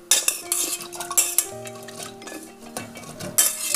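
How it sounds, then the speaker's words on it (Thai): Soaked pumpkin pieces drop into a pot for pumpkin in sweet coconut milk, giving clinking, scraping utensil and pot sounds in a quick irregular series up close. "นี่ค่ะฟักทองที่เราแช่น้ำบุญใส่ไว้แล้วนะคะแล้วก็ใส่ลงไป"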